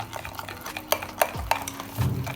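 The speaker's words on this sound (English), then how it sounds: "You're just going to go ahead and mix everything together as well." Utensil stirring mug cake batter of flour and baking powder in a mug, with repeated sharp clinks against the rim at a steady rhythm over soft scraping, close and moderately loud with no talking.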